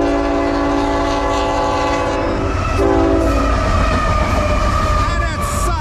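A CSX freight train's multi-tone air horn blares in a long sustained chord over the heavy rumble and clatter of passing rail cars, with a voice talking underneath.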